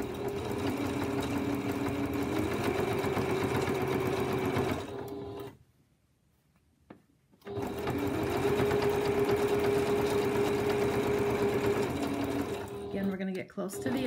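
A sewing machine runs steadily as it stitches binding onto a fabric potholder, a close, whirring hum with a rapid needle rhythm that stops for about two seconds, then resumes, while a person talks over it.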